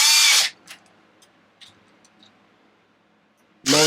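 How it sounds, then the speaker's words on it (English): A power drill set to low torque tightens bolts during a differential oil change on an Arrma Limitless RC car: two short, loud whirring bursts at the start and end, with faint clicks in the quiet stretch between. "usually my drill will stop when it gets to that point because it's put it on low"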